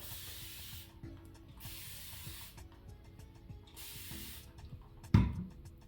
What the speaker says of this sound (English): I'm just gonna give it a spray because it doesn't have to be soaking wet